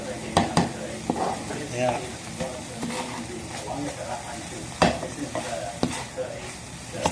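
Sardines and egg fry in a pan with a steady, close sizzle, punctuated by sharp clinks and scrapes of a utensil stirring against the metal; a voice briefly speaks over the cooking.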